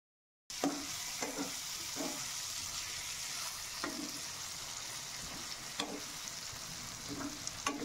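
Anchovy dry fish being stirred in a hot pan with coarse salt and turmeric, a soft steady sizzle broken by repeated scraping strokes of a spoon against the pan, quiet and close, after a short silent start.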